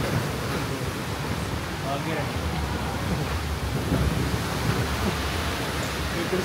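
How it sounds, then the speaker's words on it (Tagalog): Steady heavy rain pours outdoors in blustery wind in the Monkey Mountains near Da Nang, a constant broadband wash with low rumbling that may be thunder, loud and continuous throughout. "Ulan na."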